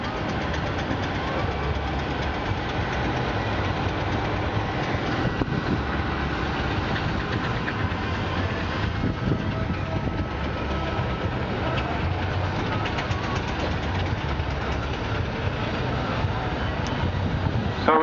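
A Scammell tractor's engine runs steadily while its winch hauls a steam locomotive onto rail tracks at a steam fair, a continuous low mechanical drone with faint clanks, outdoors and at moderate distance, with little variation throughout.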